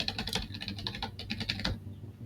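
Quick clatter of fingers typing on a computer keyboard, a short burst of a dozen or so close, crisp key taps that stop abruptly near the end.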